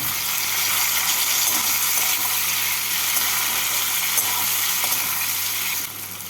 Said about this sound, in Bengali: টমেটোটাকে পেঁয়াজের সাথে নাড়াচাড়া করে নেব